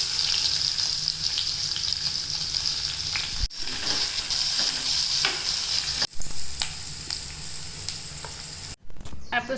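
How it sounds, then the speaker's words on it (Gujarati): Mustard seeds, cumin, asafoetida and onion tempered in hot oil for a bhindi-potato dish, a loud continuous sizzle with crackling pops and scraping stirs close up, briefly cut by short edits, with no talk. "હવે આપણે રાઈ નાખી વઘાર કરશું."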